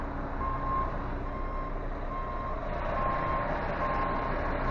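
An HGV lorry reverses with a steady repeating beep from its reversing alarm, the beeps evenly spaced over a loud, continuous diesel engine rumble heard from the cab.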